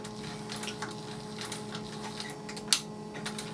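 A sewing machine stitches side pleats with a steady, quiet motor hum and faint needle ticks, plus one sharper click near the end; no voices.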